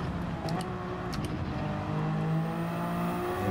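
A race car in a racing video game accelerates out of a corner, the engine note rising steadily and close up, with a few clicks of gear shifts early on.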